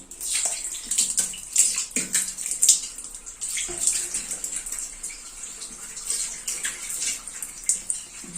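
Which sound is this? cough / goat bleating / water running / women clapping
water running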